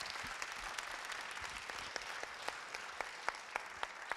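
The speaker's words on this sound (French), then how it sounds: "Je vous propose qu'on les applaudisse toutes et tous." Sustained audience applause at a French public-service gathering, a dense wash of clapping from a crowd with sharper individual claps standing out toward the end, no voices.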